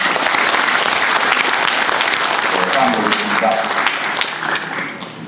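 An audience at a Masan lawmaker's constituency report, with many Kyungnam University students present, applauds loudly and continuously, the clapping tapering slightly near the end while voices murmur beneath.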